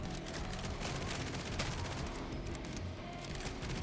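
A dense, continuous barrage of gunfire while shooting demons in a roguelite action game, steady and unbroken over a noisy din of explosions and hits, with no speech.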